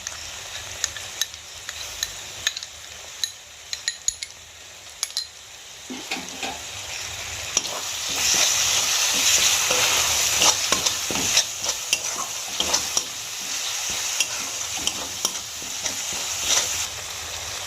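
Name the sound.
sizzling masala after adding whisked sour yogurt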